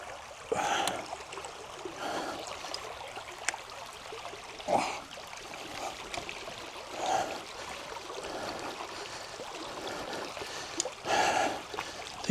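A creek runs as a steady stream beneath a rider carrying an e-bike, flowing and trickling continuously with occasional splashes and knocks, and no voices.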